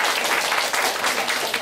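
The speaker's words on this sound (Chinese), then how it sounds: "来大家掌声欢迎邱老师。" An audience at a holiday science event applauds to welcome a teacher, with dense, continuous clapping that stays loud and close throughout.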